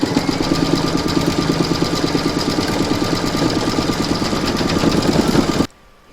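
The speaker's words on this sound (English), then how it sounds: "stitch round number 13, and that's going to do your satin stitch and top stitching around the edge" An embroidery machine running a satin stitch and top stitching around the edge of an in-the-hoop coaster, a loud, fast, steady mechanical chatter close by that stops abruptly near the end.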